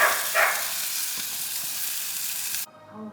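A ribeye steak sizzles in a hot pan, a bright, steady crackle up close that stops abruptly near the end, followed by quieter kitchen noise.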